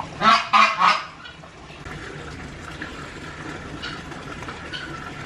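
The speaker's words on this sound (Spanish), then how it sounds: "Hola, gansos." Geese at a conservation center let out three loud, close honks in quick succession, followed by quieter background ambience with trickling water.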